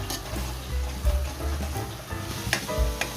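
Chopped onions fry for pav bhaji in a pan over a medium flame, giving a loud, continuous sizzle with the occasional scrape and stir.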